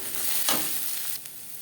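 Panch phoron, dry red chilies and onion hit hot oil in a wok for masoor dal with vegetables, a loud, steady sizzle that swells briefly as the pieces are stirred.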